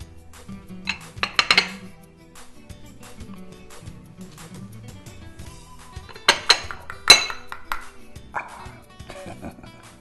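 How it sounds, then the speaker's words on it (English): A saucer is flipped over to unmold a tomato aspic, giving a few sharp, close ceramic clinks and clatters in short bursts separated by quieter handling noises. "you simply flip around your saucer, turn her over"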